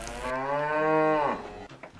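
A Limousin cow on a farm lets out one long, loud, close moo that swells and then fades, followed by quiet farmyard background.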